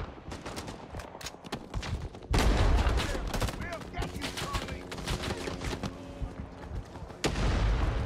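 Sustained Rising Storm 2: Vietnam gunfire, with rapid overlapping rifle and machine-gun shots throughout and two heavy, loud bursts of close fire with booming low impacts rolling over a busy battlefield.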